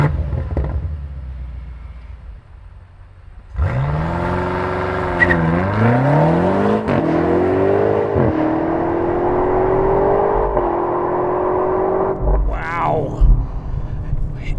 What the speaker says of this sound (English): It's been a while since I've driven something this quick.